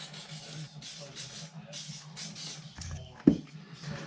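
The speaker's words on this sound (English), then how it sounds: "So give it a spray with some Pro Prep." Pro Prep cleaner is sprayed onto KTM 690 Enduro R motorcycle parts in several short, close hissing bursts, followed by a single sharp knock near the end.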